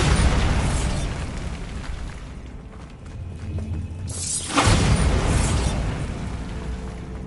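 A Bombarda explosion spell in the video game Hogwarts Legacy, with a loud, sustained rumbling blast that fades over a few seconds, then a second sharp crackling burst, both close and booming.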